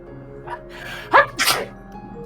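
A single sharp sneeze bursts out close and loud over a quiet background hum in an Endwalker game scene.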